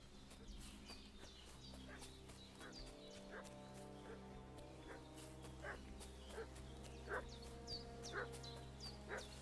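Dog in Kingdom Come: Deliverance II barking repeatedly at a distance, sharp yaps spaced through the stretch over a steady outdoor ambient bed.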